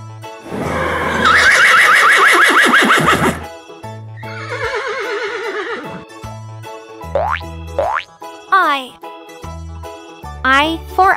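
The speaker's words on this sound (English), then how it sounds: "H for horse." A horse neighs loudly in a long, shaky whinny, followed by bouncy cartoon boing effects and brief playful tones in a children's alphabet learning piece.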